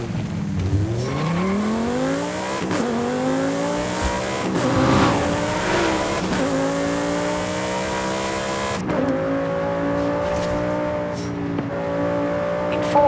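Volkswagen Golf GTI racing in Forza Horizon 5, its engine revving hard and climbing through repeated upshifts with brief tire squeal, loud and close, the engine note rising again after each gear change.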